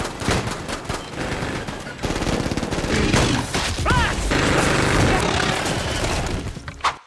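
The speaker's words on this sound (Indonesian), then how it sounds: "Tembakan demi tembakan dilepaskan." Rapid gunfire bursts from a film's creature-hunting scene, repeated volleys blending into a loud, dense mix with other action sounds, a sharp whistle-like sweep partway through, and a final bang near the end.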